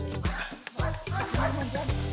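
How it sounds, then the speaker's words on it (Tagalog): A small dog barks and yips repeatedly along a road in rural Calauag, Quezon, sharp close yaps coming in quick bursts, with a person's voice and outdoor background noise underneath. "Aso, baka ako'y habulin."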